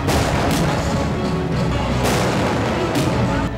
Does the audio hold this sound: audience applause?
no